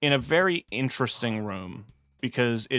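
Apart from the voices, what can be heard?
No everyday noises stand out.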